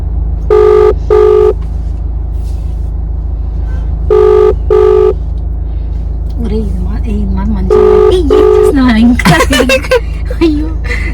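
A telephone rings in repeated paired bursts while a call is placed, with people chatting in Telugu and other noises around it during a prank.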